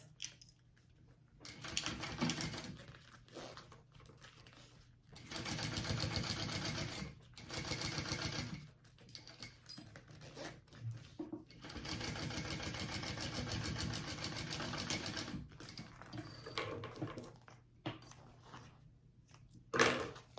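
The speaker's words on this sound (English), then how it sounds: "we are going to top stitch along this top accent piece" A sewing machine top stitches along the top accent piece of a phone sling bag, running in several steady bursts of rapid mechanical stitching separated by brief pauses.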